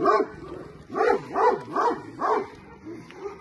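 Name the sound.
dogs barking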